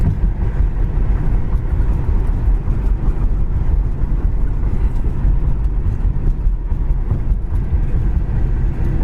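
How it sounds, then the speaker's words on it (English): A maroon 1973 AMC AMX drives along with a steady, loud low engine drone and road rumble, heard from inside or close by throughout without a break. "Really nice driving AMX."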